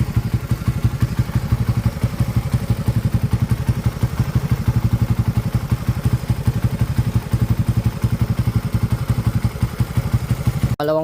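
Raider motorcycle engine runs at a fast, steady idle, close and loud with a rapid even thumping pulse and a clattering mechanical edge, stopping abruptly at the end.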